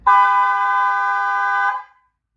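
A single long truck horn blast, tuned to the note C and fitted on a camper van, holds a steady, rich tone for nearly two seconds before cutting off, loud and close.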